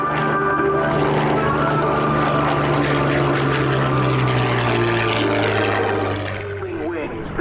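A Grumman Wildcat and a P-47 Thunderbolt propeller fighter make a loud, sustained flyby at an airshow, their engine drone steady and close throughout, with an announcer talking over the roar.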